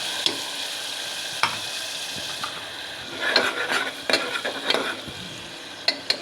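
Raw garlic cooking in oil in a pan for a mixed vegetable dish, a soft sizzle under intermittent clinks and scrapes of a spoon, fairly quiet and close, no voices.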